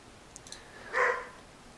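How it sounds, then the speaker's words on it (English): A pet dog lets out a single short, muffled bark from a little distance indoors, preceded by faint clicks in an otherwise quiet room. "Oh, that's my dog."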